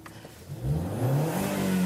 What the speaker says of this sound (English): when you fire up the engine,